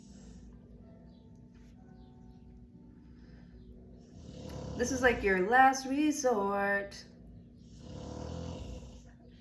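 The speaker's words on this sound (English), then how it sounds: "I'm so sorry about the snoring." Someone lets out a loud, rasping snore partway through, a drawn-out nasal rattle sounding close by, with quiet talk before and after it.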